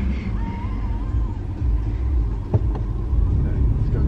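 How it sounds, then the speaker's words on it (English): Engines of a crowd of cars queuing into a packed car park with only a few spaces make a steady low rumble close by, with a brief knock and a rising swell of traffic noise toward the end. "there's about fucking 100 cars trying to get into a car park that's got 5 spaces in it"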